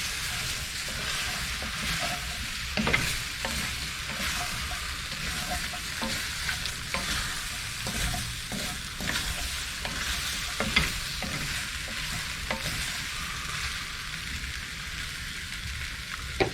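Pork and pineapple casserole ingredients stirred in a hot pan aboard a narrowboat, with steady close sizzling and frying and scraping stir strokes throughout, no talking.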